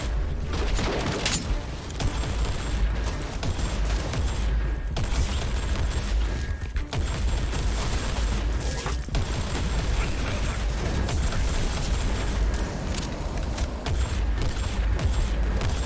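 Sustained volleys of gunfire in Warhammer 40,000: Inquisitor, loud rapid shots mixed with booms and mechanical clatter, continuous over the full span with brief dips.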